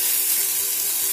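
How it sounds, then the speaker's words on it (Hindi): Garlic, onion, ginger and chili paste roasting in a pan on a slow flame gives a brief, steady, close hiss of gentle sizzling with no voices. "बिल्कुल स्लो फ्लेम पे ही भूनना है, ताकि इसका कच्चापन जाए और ये जले नहीं।"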